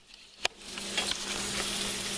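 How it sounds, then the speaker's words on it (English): Bacon sizzles and spits in a hot pan in a home kitchen, a steady close crackle that grows denser, with a sharp clink or pop near the start and no talking. "my son's frying some bacon."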